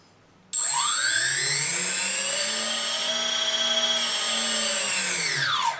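3D Robotics quadcopter motors spooling up together during ESC calibration on an APM2.5 board, a loud steady whine that rises and sweeps in pitch with throttle, then eases back down near the end, with no talk.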